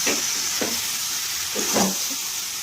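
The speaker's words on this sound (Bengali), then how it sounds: "মটরশুঁটিগুলোকে হালকা একটু কষে নিয়ে হালকা করে একটু" Green peas sizzle and fry in a hot pan, a steady bright hiss broken by a few stirring bursts, close and fairly loud with no voices.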